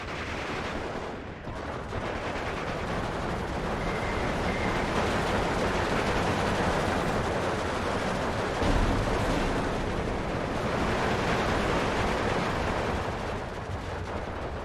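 Machine gun and artillery fire rattle steadily through a video game battle, dense, loud and continuous with layered bursts and booms, no pauses and no speech.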